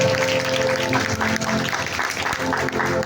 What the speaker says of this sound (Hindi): इस घड़ी अपने लिए ताली बजाइए।